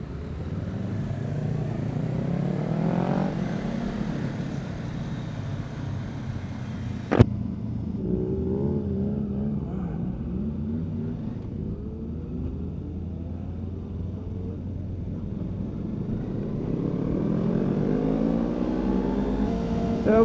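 Kawasaki Ninja 500 motorcycle pulling away on a group ride, a steady engine rumble with rising revs building through the run, one sharp click near the middle, the drone holding close and fairly loud throughout with no talk.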